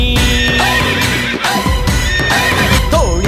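A horse whinnies within a Tamil devotional song, with a clip-clop beat of hoofs running under continuous loud music and vocals.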